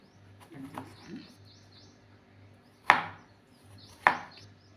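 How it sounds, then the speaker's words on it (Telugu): Knife chopping wax apple into small pieces on a board, two sharp distinct chops after some softer cutting sounds, with faint bird chirps in the background and a quiet voice. "కట్ చేసుకున్నాం చిన్న చిన్న ముక్కల కింద"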